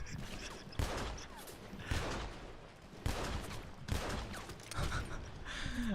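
Gunfire in a multiplayer shooter: repeated sharp shots land in clusters roughly every second, with rattling bursts and mechanical clatter between them, moderately loud with no voices over it.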